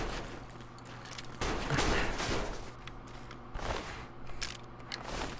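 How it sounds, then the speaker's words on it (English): Gunfire aimed at a Sentry Bot in Fallout 3: Broken Steel, bursts of rapid shots with sharp impacts that come in several clusters at moderate volume over game ambience. "Shoot Sentry Bots in the chest and you kill them fast."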